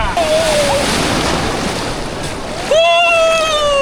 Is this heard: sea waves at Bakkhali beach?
yes